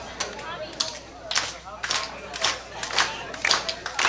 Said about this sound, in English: we're all going to join together and clap